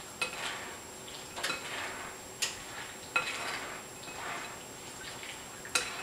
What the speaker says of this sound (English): Just stir that around till you get it all mixed together.